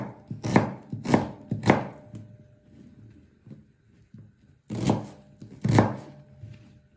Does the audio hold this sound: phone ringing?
no